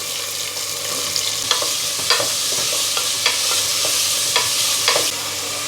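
Cumin, mustard seeds, crushed garlic and onion frying in hot oil for a tempering, a steady close sizzle with sharp spatter pops and occasional stirring scrapes, no voices.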